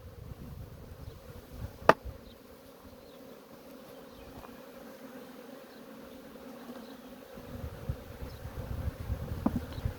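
Honeybees buzz steadily at an open hive while a new queen is introduced, a dense close swarm hum that swells louder toward the end, with a brief sharp tap early on.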